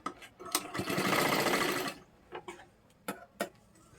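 A sewing machine stitches a kurti sleeve in one loud, steady whirring run, with lighter clicks and taps of handling before and after, close up and with no voices.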